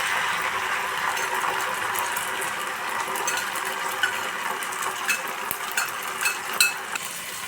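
Ginger garlic paste stirred into a hot frying pan: a dense, continuous sizzle with a spatula scraping and clicking against the metal, growing busier toward the end.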